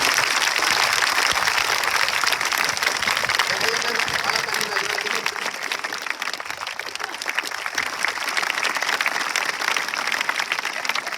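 Loud, sustained applause from a crowd at a school farewell function for a teacher at a government senior secondary school in Rajasthan, continuous dense clapping filling the whole stretch with voices mixed in.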